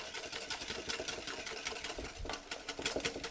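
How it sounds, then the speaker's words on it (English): Eggs and sugar are whisked vigorously in a bowl for a passion fruit curd, giving a steady, rapid scraping and clinking rhythm that continues without a break, fairly close and moderately loud. "I'm going to mixing this, whisking vigorously,"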